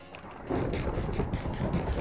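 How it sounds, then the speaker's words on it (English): A loud, rumbling roll of thunder in Minecraft swells and sustains with a deep, booming texture. "That thunder is extremely loud."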